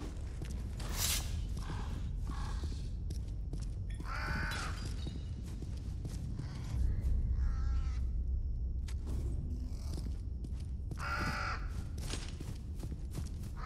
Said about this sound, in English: Poopy birds up at the back.